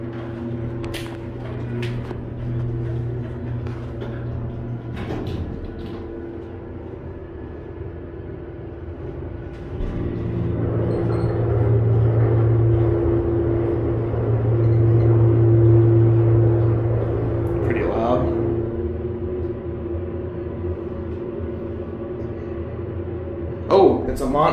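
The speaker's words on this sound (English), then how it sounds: "This is a Montgomery elevator at the Brandon Dillard's." A Montgomery elevator motor at a Dillard's department store in the Westfield Brandon Mall runs as a steady low hum and rumble that swells louder midway, heard close with faint background noise.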